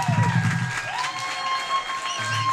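A crowd cheers and applauds steadily, with whistles and shouts rising over the clapping, loud and close.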